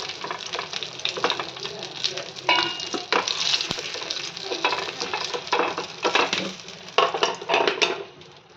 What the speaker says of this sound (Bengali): এখানে মাছের মাথাটা ভালো করে ভাজা হয়ে গেছে, লাল লাল করে